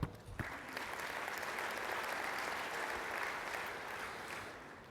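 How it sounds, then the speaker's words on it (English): An audience at a construction industry safety performance gathering gives a sustained round of applause, a broad, even wash of many hands clapping that holds steady for several seconds and fades slightly at the end. "I think we all owe ourselves a round of applause for that."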